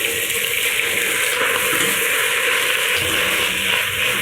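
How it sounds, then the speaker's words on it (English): Seaweed browns in vegetable and sesame oil in a pot, giving a loud, steady sizzling hiss with crackling texture throughout, close and continuous with no talking. "And now we're going to brown the seaweed."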